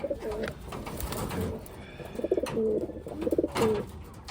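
Wantai racing pigeons coo close by in soft, throaty bursts, several rolling coos repeating over a low background hum, with no voices.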